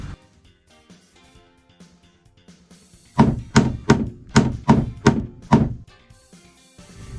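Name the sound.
pounding out a boat through-hull fitting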